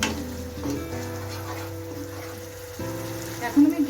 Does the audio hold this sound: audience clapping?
no